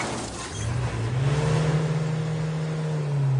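A car engine revs hard and holds a steady, rising drone for several seconds, loud and close, with no talking over it.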